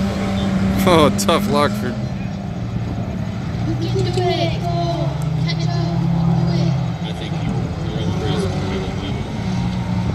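Compact race trucks, including a Jeep and a Ford Ranger, roar around a dirt track at a county racing event in Elk River, Minnesota, with engines droning and passing loudly while an announcer talks over them.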